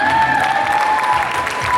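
An audience at a primary school graduation ceremony gives brief, dense applause, with a faint tonal hum running beneath the clapping.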